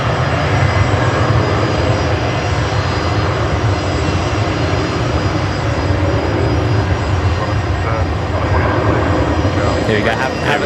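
A Jetstar airliner departs Brisbane Airport, its engine roar steady and loud throughout, a broad rumble under intermittent talk.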